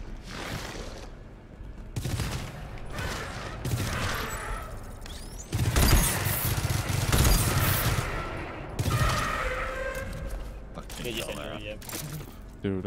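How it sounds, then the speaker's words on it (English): Rapid bursts of gunfire from the burst cannon in the co-op horror shooter GTFO, loud and close, repeating in clusters with booms and mechanical clatter under excited players talking. "Dude, the burst cannon just kills mom and dad so easily."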